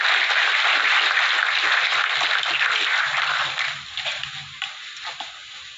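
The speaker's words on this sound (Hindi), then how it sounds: "जोरदार तालियों के बीच स्वागत कीजिए विमला दीदी का।" Applause from a women's empowerment gathering welcomes a woman onto the stage: dense, sustained clapping from a sizeable crowd that thins out toward the end into a few scattered claps.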